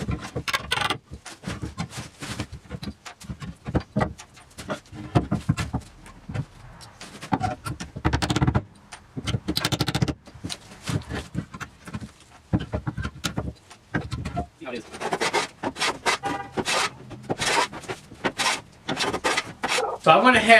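A hand plane or rasp scrapes along the edge of a salvaged wooden plank in repeated short strokes, a dense rhythmic rasping with brief pauses between passes, close and fairly loud.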